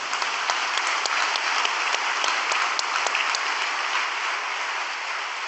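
A congregation applauds at a Korean church sermon, steady and even clapping from many hands that holds at constant loudness throughout, with no voices over it.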